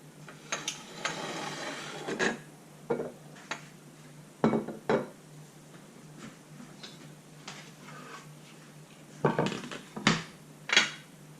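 A knife slices through fresh, unpeeled garden zucchini, producing a series of irregular crisp chops and taps on a hard surface with quiet pauses between cuts.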